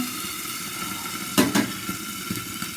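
Sardines (mathi fish) frying in a pan give a steady, close sizzle with a brief louder burst of crackle midway, alone without voices.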